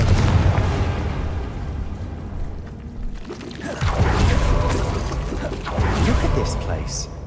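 Confringo spell explosions in Hogwarts Legacy, several rumbling blasts and crackling bursts over a dense game soundscape, with a character's voice speaking among them.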